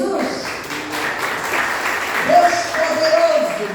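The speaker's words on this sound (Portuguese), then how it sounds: "Você pode aplaudir Jesus?" Congregation applauding in church, a broad wash of clapping running throughout and swelling toward the end, mixed with voices and a sustained tonal sound rising in the second half.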